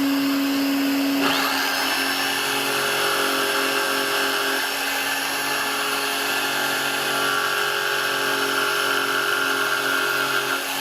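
A vacuum cleaner switches on after about a second and runs steadily at a loud, constant whine for the rest of the clip, with no voices.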